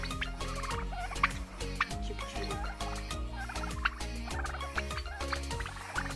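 A flock of domestic turkeys gobbles in overlapping, rapid bursts on a farmstead, the calls steady and close with no talking.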